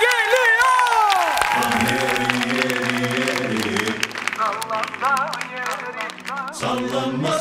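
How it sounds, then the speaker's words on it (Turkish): A television studio audience applauds and cheers while music plays over the top, with a voice and melodic singing prominent above the clapping. "Kocaman alkış"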